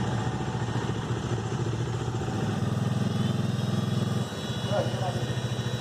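A 2020 Bajaj Dominar 400 UG motorcycle idling after several minutes of running with its cooling fan on, a steady close engine throb with a whirring fan mixed in and people talking over it.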